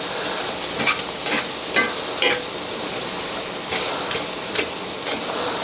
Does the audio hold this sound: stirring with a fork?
yes